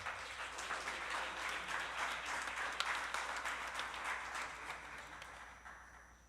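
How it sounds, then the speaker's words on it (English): Applause for an award winner at a business awards ceremony: a sustained crowd of clapping hands, fairly quiet and even, holding for several seconds and fading slightly at the end. "Round of applause for Siraj,"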